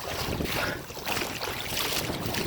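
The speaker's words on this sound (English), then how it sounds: "It's windy." Wind gusts sweep past the microphone beside open water, a steady broadband rush with a brief lull near the middle, loud and close with no talking.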